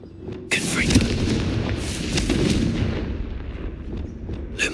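Confringo fire spell blast in the Hogwarts Legacy game, a sudden loud boom that rolls into a sustained rumbling burst before fading, with a spoken incantation nearby.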